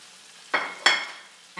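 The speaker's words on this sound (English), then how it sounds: "Now what I'm going to do is put the shrimp in." Shrimp dropped into a pan of softened, translucent shallots for shrimp scampi, giving two short bursts of sizzle close by, each fading quickly, with no talking.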